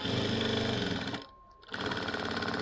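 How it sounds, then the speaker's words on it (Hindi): A sewing machine stitches the side seam of a plain blouse, a loud, close, rapid mechanical whirr that stops briefly midway and then resumes. "अब हम यहाँ से साइड सिलाई लगा लेंगे अपने ब्लाउज में"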